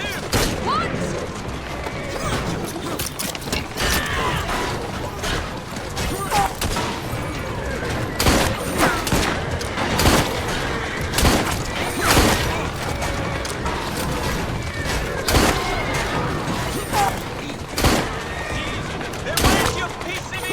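Gunfire rattles through a combat scene in the video game Assassin's Creed Syndicate, with repeated loud shots and booms in irregular bursts over about twenty seconds, mixed with shouting voices and game noise.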